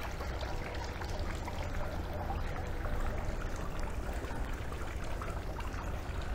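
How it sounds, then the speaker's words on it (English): Water from a decorative fountain in an arts cafe flows steadily from one basin into another, a constant near splashing wash with no pauses and no talk. "See, the water is flowing from this to that."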